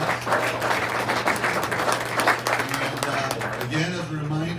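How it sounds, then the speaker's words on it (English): A meeting audience gives a round of applause for the greeters, with a brief burst of steady clapping from a modest crowd that tapers off as a voice begins speaking. "So we'll give them a little round of applause."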